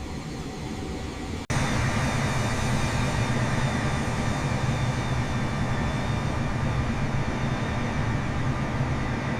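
A cargo aircraft taxiing to the runway makes a loud, steady, broadband engine roar that starts abruptly after a short quieter stretch and holds constant to the end, with no voices.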